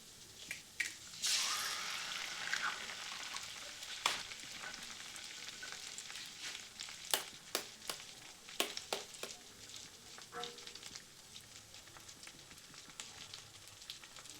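Potatoes frying in a pan for a crispy potato-and-flour breakfast snack: a steady, moderate sizzle with occasional sharp clicks and scrapes of stirring, with no voices.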